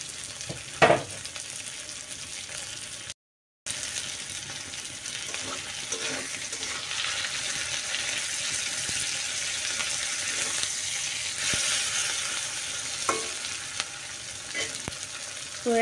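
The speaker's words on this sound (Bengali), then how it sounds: "আর তেলে আমি দিয়ে দেবো শুটকিটা, যেন তেলে ভাজা ভাজা হয়।" Dried fish (shutki) from Cox's Bazar fries in hot oil in a pan, giving a steady close sizzle with occasional stirring clatter and a brief break partway through.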